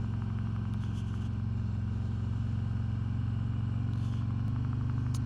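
A 2021 Harley-Davidson Road King Special motorcycle rumbles steadily while riding slowly, a low continuous engine drone with wind noise and no talking.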